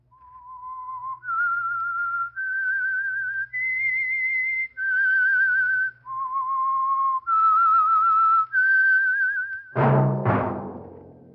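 A single performer whistles the signature tune for the Signal Oil radio mystery program The Whistler, a slow, clear melody of sustained notes, loud and close, ending in a sudden bright orchestral chord.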